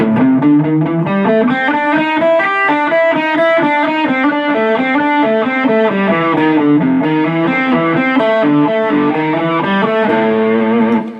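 An electric guitar plays pentatonic licks with passing tones, using hammer-ons and pull-offs: a continuous stream of quick, clear notes with a slightly distorted, effected tone, loud and steady, with no voice.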